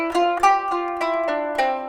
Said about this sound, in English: the major scale as we know it in equal temperament sounds something like this.